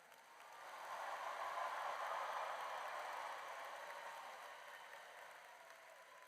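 Audience at a high school commencement applauding the graduates: a broad, steady wash of clapping that swells over the first seconds, holds, then eases slightly while continuing to the end, with no talk over it.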